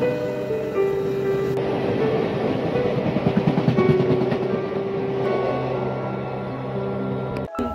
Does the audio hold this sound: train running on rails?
yes